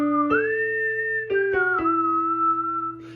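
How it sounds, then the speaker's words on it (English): A person whistles a short melody of a few sustained notes, clear and close, with slight pitch bends between them. "At 13, you have this whistling part."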